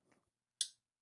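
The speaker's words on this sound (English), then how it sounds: "the sound of a nice steel frame lock clicking in" A single crisp metallic click as the steel frame lock of a folding knife with a stonewashed Nitro V blade snaps into place, close and sharp after a faint rustle, otherwise quiet.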